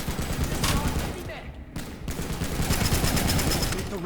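Sustained rapid gunfire from an SMG fitted with a foregrip in Planetside 2, dense bursts of shots up close with a short pause midway, continuing loudly to the end.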